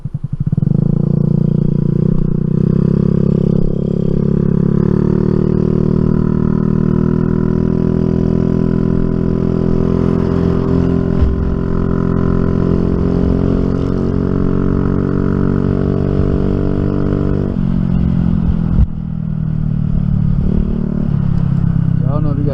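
A Honda NAVI engine runs steadily after a carburetor adjustment, a loud, continuous rumbling idle with a slight dip near the end and no pauses throughout.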